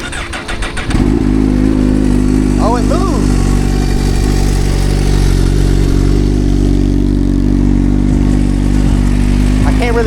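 A Suzuki GSX-R1000R motorcycle cranks and fires up, then settles into a loud, steady idle with a couple of brief throttle blips early on, while a person talks nearby.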